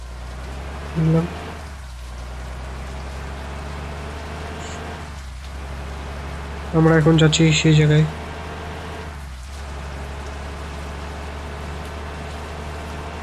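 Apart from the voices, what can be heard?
rain falling in a bus driving video game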